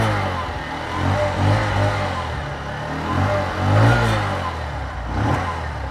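A Bajaj Platina 110 motorcycle's engine revs under throttle, a steady low mechanical drone rising and falling in several close, loud surges.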